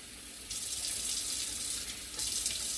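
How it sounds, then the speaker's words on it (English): Tap water running into a container while coleus cuttings are rinsed, a steady rushing splash that gets louder after a moment and continues alone without talk. "We don't need the water running all day."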